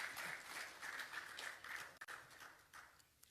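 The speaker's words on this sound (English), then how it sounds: "Another round of applause for the Honorable Minister." Audience applause at a Ghanaian state ceremony honouring an Olympic medal winner, given for the Honorable Minister; steady moderate clapping from a crowd that fades slightly near the end.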